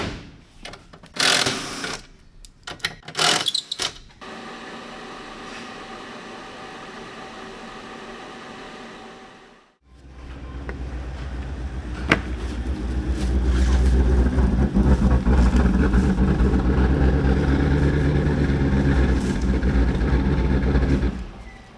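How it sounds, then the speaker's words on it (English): An Audi RS7 engine with a solid misfire runs at a steady idle after a few seconds of clatter. It cuts out briefly, then restarts and settles into a loud, rough drone. "This RS7 has a solid misfire."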